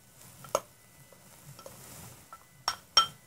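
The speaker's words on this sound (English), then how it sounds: "Now I'm going to get this good and stirred up." A spoon stirring stuffed pepper filling of diced tomatoes and cooked rice in a pan, soft wet scraping with a few sharp metallic clinks against the pot, quiet and close.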